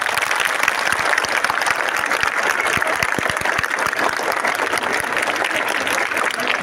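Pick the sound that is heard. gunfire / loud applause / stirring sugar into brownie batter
loud applause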